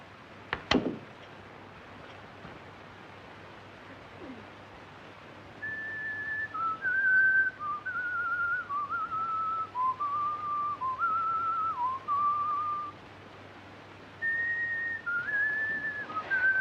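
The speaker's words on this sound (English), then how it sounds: "That tune you are whistling, sir, it is an English tune, isn't it?" A man whistles an English tune in a quiet room, a clear melodic line of held and gliding notes starting a few seconds in, pausing briefly, then resuming; a sharp knock sounds near the start.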